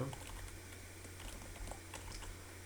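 Fast, light clicking of keys on a computer keyboard, recorded close and quiet, with an irregular run of taps over a faint steady hum.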